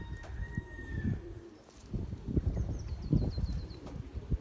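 Belgian racing pigeons in a large flock give soft cooing calls and faint chirps over a busy outdoor background of low thumps and rustle, with a light whistling sweep near the end.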